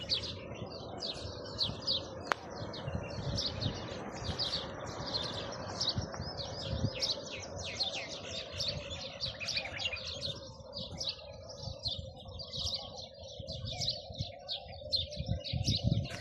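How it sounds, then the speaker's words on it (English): Many birds by a lake with flamingos and swans chirp and tweet in a busy chorus over steady low background rumble, with an occasional coo, continuous throughout. "You can hear that birds is very happy."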